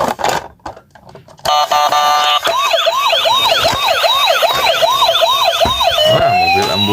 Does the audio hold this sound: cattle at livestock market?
no